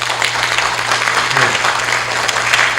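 Strong applause welcoming a speaker at a criminal procedure law seminar in Peru, loud continuous clapping from a hall full of people that stays dense throughout, over a low steady hum.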